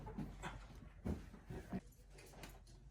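A dog at a yard sale pants and whimpers close by, with short rhythmic breathy bursts and soft whines repeating over faint background noise.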